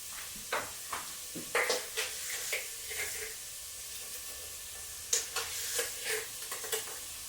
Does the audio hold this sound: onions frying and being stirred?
yes